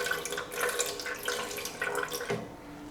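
Descaling solution being poured into the water tank of a DeLonghi Autentica ETAM-series coffee machine, a close, steady trickling splash of liquid that runs for a few seconds before trailing off.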